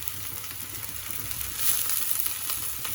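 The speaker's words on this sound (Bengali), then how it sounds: "পেঁয়াজ রসুন ভাজা হয়ে গেছে, এখন চাল দিব।" Rice frying in a pan with fried onion and garlic, a steady close sizzle with crackling patter that grows a little louder partway through, with no talking.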